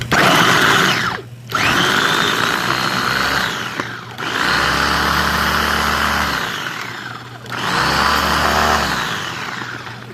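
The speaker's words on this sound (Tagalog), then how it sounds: "Ito na yung ating nilagay natin sa ating food processor. Mix na natin yan dyan." A food processor grinds garlic, onion, bell pepper and carrots in loud, steady whirring runs, stopping briefly twice before starting again, with no voices.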